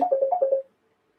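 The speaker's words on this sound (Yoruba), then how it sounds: "Ìpè fẹ́ wọlé." Incoming call tone on a radio phone-in show, a short run of about six quick electronic beeps that stops abruptly, followed by near silence.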